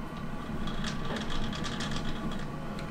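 A lathe with a round tool cuts the crankcase of a model V-twin engine, making a steady whirring, rattling machine noise with brief bursts of higher chatter over three seconds, with nobody speaking.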